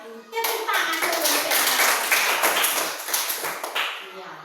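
A class of children claps their hands together in a classroom, a lively burst of quick, uneven claps that keeps going with children's voices mixed in.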